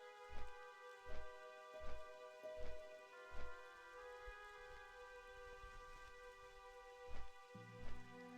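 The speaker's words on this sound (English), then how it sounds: "it's raining out in Elwyn Forest" Rain falling in Elwynn Forest in World of Warcraft, a faint, steady patter under soft ambient music, with low periodic thuds recurring through the scene.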